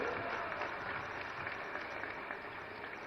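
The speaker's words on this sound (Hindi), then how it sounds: "ताली बजाओ निरंजन भाई के लिए" Audience applause at a political rally in India as guests are honoured on stage, steady dense clapping from a large crowd throughout, fairly loud with no clear voices on top.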